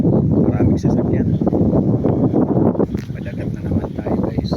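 Strong seaside wind buffeting the microphone in a steady low roar, with a voice speaking over it throughout.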